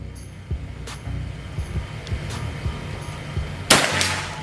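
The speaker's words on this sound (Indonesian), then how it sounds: "Sekarang tembakan yang ketiga." A single sharp shot from a Bocap Escobar PCP air rifle during target accuracy testing cracks loudly near the end, preceded by scattered soft clicks and handling thumps in a quiet outdoor setting.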